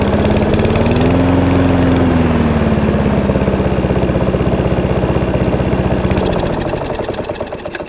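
A BCM Big 20 lawn mower engine runs steadily at a loud, even throttle, close by, then eases off slightly near the end, with no talking.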